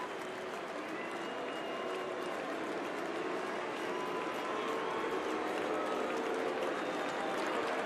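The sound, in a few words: baseball stadium crowd doing the Moose call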